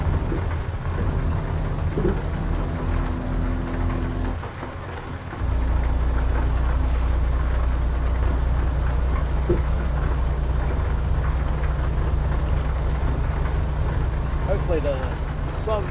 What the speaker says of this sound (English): Hopefully the sun will come out here and the rain will quit soon